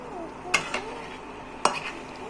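A utensil scrapes and clinks against a pot while meat for biryani is stirred in plenty of oil, two sharp metallic knocks with soft stirring between, fairly quiet.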